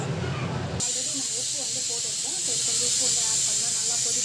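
A steady hiss of a simmering pot with small bubbling pops, preceded by a brief noisy rush, close and continuous.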